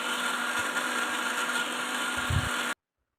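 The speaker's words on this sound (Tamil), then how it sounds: "இப்போ மிக்ஸியை போட்டு அரைச்சிக்கலாம்." A kitchen mixer grinder whirs steadily as it blends pomegranate seeds with sugar and ice and no added water, a continuous close motor sound lasting under three seconds before it stops dead.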